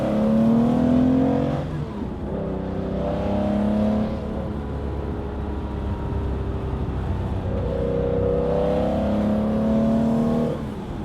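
A Porsche 911 engine revving and accelerating, loud and close, with rising pitch sweeps as it climbs through gears, a steady drone between pulls, and another strong surge near the end.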